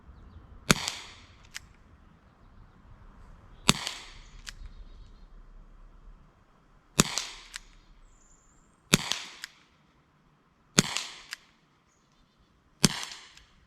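Six sharp pops from a Crosman SNR .357 air revolver fired double action at a target, spaced irregularly a couple of seconds apart, each loud crack followed by short quiet with faint mechanical clicks between shots.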